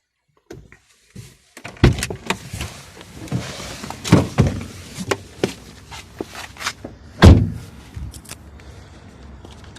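Renault Zoe driver climbing out of the car: a loud door clunk and shuffling movement with scattered footsteps and clicks, close and fairly loud, no talk.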